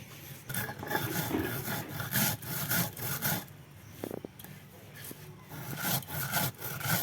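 Spices are ground coarsely by hand for a sour-spicy mango pickle, making continuous close rubbing and scraping strokes in an uneven back-and-forth rhythm.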